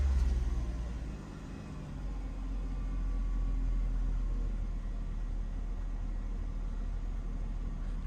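Mercedes-Benz car engine turning over and settling into a low, steady idle rumble, quiet and close, with no talking.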